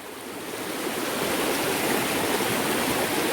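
A stream in a dark cave rushes toward a waterfall, roaring steadily and evenly, a dense continuous flow close at hand with no pauses.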